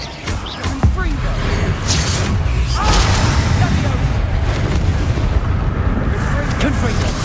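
Confringo blasting spells burst repeatedly in Hogwarts Legacy combat, loud booming explosions with crackling fire and clashing effects layered densely over one another, forming a continuous chaotic barrage.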